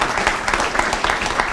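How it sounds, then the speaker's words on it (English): An audience applauds the Bermans at a Harris Teeter opening event at Bowie Marketplace, a steady dense wash of many hands clapping throughout, close and fairly loud with no voices over it. "So let's give the Bermans a round of applause."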